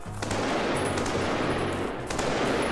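Rifle fire in the horror VR shooter Blood Trail: a loud, dense burst of rapid shots and gunfire with sharp cracks throughout, continuous and close, no speech.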